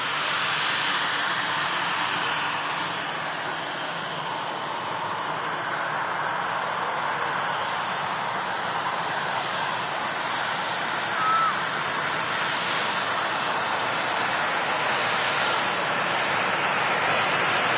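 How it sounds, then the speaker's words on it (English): An Embraer Legacy 500 business jet operated by Air Hamburg departs Manchester Airport, a broad distant engine roar holding steady throughout at moderate volume, with faint voices in the background. "That aircraft is a Legacy 500 from Air Hamburg on the way out to Darlington"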